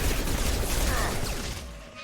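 Video game gunfire from Mass Effect 2 in a combat firefight, a dense burst of loud overlapping shots and impacts for nearly two seconds before tapering off.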